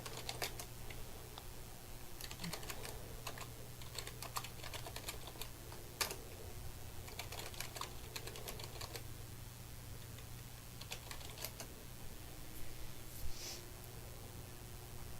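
Fingers tap out a password on a computer keyboard in quick, irregular clusters of soft clicks, close and quiet against a faint steady hum, with no talking.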